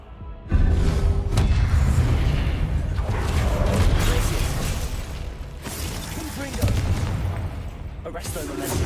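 Explosive bursts from the Confringo fire spell in Hogwarts Legacy, a sudden loud boom opening a run of crackling blasts and debris amid busy combat sounds, with voice lines spoken over the fighting.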